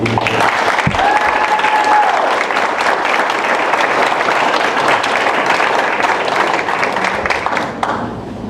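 An audience at a men's soccer championship ring ceremony claps in a long, loud, sustained burst of applause, with a brief whistle early on and a few louder nearby claps before it tapers at the end.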